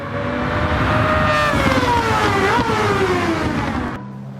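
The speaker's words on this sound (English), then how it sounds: "just enjoy yourself and listen to that engine" A race car engine in a video game screams loudly at high revs, its pitch sliding gradually downward with a brief rise, before cutting off abruptly near the end.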